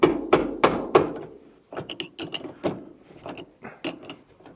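A wrench works loose a 17 mm nut on a seatbelt mount inside a Jaguar XK8. Sharp metallic clicks and clunks come close up in an uneven ratcheting rhythm, with several strong knocks early and lighter ticks after a brief pause.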